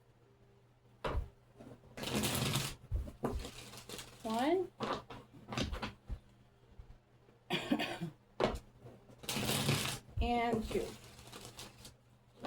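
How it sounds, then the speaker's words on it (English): Tarot cards shuffled in bursts of riffling and rustling, a few separate rounds with short pauses between them, while a voice counts aloud. "Two more shuffles."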